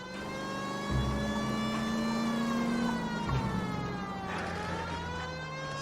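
A police car siren wails in the video game L.A. Noire: a steady, sustained tone that dips slightly in pitch over a rumbling car engine, loud and close with no talking.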